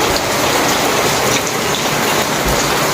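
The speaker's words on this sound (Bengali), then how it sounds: "ভীষণ বৃষ্টি হচ্ছে, প্রচুর জোরে জোরে।" Heavy rain pours down steadily, a dense, loud broadband wash with no pauses or voices for the full three seconds.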